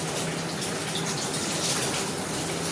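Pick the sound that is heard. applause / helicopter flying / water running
water running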